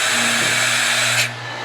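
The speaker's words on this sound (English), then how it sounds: "the machine will come forward and drill the hole" A dowel drilling machine bores a hole into a wooden block, a loud steady whirring drone close by that drops off sharply near the end, with no voices.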